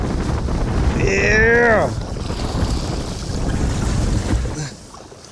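Strong wind gusts roar over a small fishing boat on open water, buffeting hard against the microphone. The gusts swell and ease over several seconds, and a voice shouts briefly partway through.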